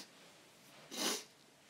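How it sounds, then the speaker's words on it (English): A person gives one short, breathy snort, near and quiet, with a faint hiss before it and no talking. "Excuse my snorting"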